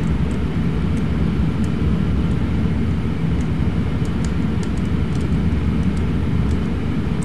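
Steady droning airplane engine in Flight Simulator X, a constant low rumble with no breaks, heard alone without talk.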